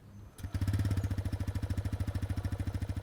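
A 2021 TVS Raider motorcycle engine catches with no starter whine via its integrated starter generator, then settles into a steady, throbbing idle with a regular pulsing rhythm.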